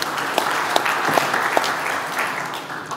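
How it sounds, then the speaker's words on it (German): Applause from the audience at a panel discussion at a German hunters' convention, a steady dense clapping that lasts the whole stretch at moderate loudness. "bei guten Neuigkeiten darf immer geklatscht werden"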